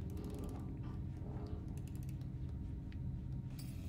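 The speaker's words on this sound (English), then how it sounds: "Did he just wind the monkey?" A wind-up toy monkey being wound in the Little Nightmares game, a steady ratcheting, creaking mechanism of repeated clicks over a low droning background, with no talking.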